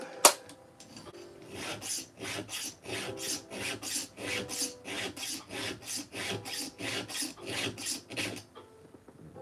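A round file sharpens a chainsaw chain in about seventeen evenly timed rasping strokes, close and unaccompanied. A sharp knock comes just before the strokes begin.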